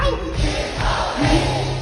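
Crowd cheering and applauding at a Hong Kong stage event, a dense, steady roar of voices and clapping, moderately loud and continuous for about two seconds.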